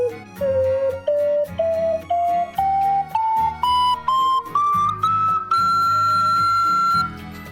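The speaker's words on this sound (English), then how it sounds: "So if I were to demonstrate the full range of a regular ocarina, it would sound like this." A regular ocarina plays an ascending scale through its full range, each breathy, pure whistle-like note stepping higher in even rhythm until a final sustained high note rings out close and clear.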